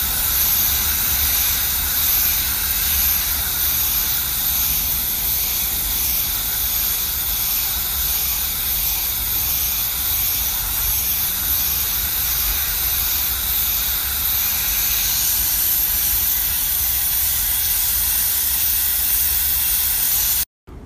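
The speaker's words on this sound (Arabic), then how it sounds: "راح استخدم الجهاز ان شاء الله اللي هو البخار بهذه الطريقة" A handheld steam machine hisses continuously and loudly at close range while loosening an old sticker, a steady broad spray of steam lasting about twenty seconds before cutting off abruptly, with no talk.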